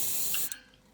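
An aerosol spray of frame dirt paint on a model railway mineral wagon chassis hisses steadily and close, then cuts off sharply halfway through, leaving a quiet tail with a faint click.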